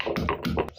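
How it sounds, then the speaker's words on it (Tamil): Onion being pounded with a stone in a stone mortar during home cooking, giving a quick series of close, dull thuds and taps in under a second. "இடிக்கல்ல வச்சு வெங்காயத்தை இடிச்சுக்கலாம்"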